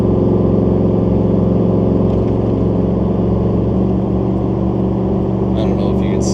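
A car with a swapped 6.2L engine climbing a hill at about 2200 to 2500 RPM gives a loud, steady, low droning hum that holds an even pitch throughout.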